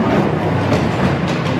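Ghost Train dark-ride cars rolling along their track at Blackpool Pleasure Beach, a steady, loud, close rumble with rattling clatter throughout and no voices.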